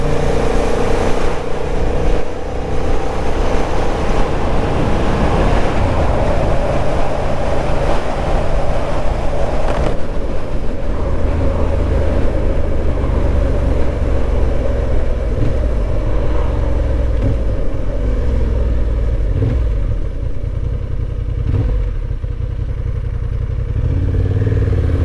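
A Honda Hornet 750 motorcycle drones steadily through a commute ride, its engine note and wind noise continuous and loud, shifting slightly in pitch as the rider works the throttle and clutch.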